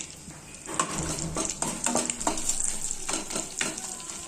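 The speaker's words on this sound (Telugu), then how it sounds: "2 యాలుకలు, 2 లవంగాలు, కొంచెం చిన్నది చెక్క ముక్క, 1 మొగ్గ, 2 బిర్యానీ ఆకులు, ఇవన్నీ వేసుకొని ఫ్రై చేస్తాము." Whole spices (cardamom pods, cloves, a piece of cinnamon, a flower bud and bay leaves) fry in butter in a kadai, giving a steady close sizzle with bursts of crackle and stirring scrapes throughout.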